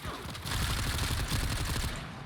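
Dense, rapid weapon fire aimed at ram sleds in Warframe's Empyrean mode, a steady rattling barrage lasting a couple of seconds at low overall level.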